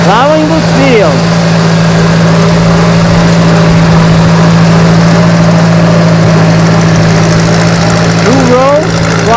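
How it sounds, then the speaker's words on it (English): Antique John Deere tractor engine working hard while plowing a field in northern Maine, a loud, close, steady droning chug with a strong low hum, with voices talking over it. "And here's another distinctive sound of the John Deere."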